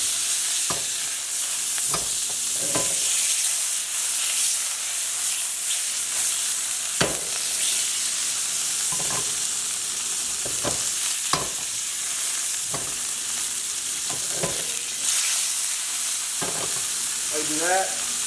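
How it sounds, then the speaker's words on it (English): Butter, about three quarters of a stick, melting in a hot pan with a steady, close sizzle and frying hiss, broken by occasional stirring clicks and scrapes, with no one talking. "You can take your 3/4 stick of butter, put it in, melt it."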